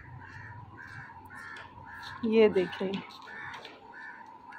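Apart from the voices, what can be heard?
crows cawing loudly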